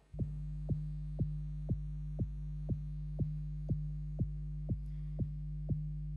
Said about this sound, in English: So there we have our 2 low-end elements, a kick drum, and a bass.